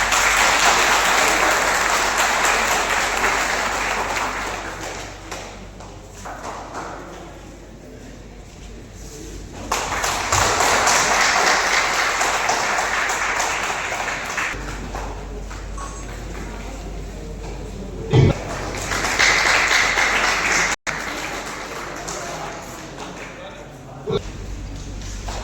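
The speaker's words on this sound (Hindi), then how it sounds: "मैं जोरदार तालियों से आप सभी लोगों का अनुरोध करूंगा उनका स्वागत करें" Audience applause welcoming guests at a human rights and RTI awareness organisation event, a long loud clapping swell that fades and returns in waves, with a few sharp thumps near the end.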